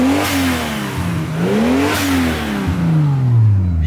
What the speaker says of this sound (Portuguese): olha o barulho do turbo lá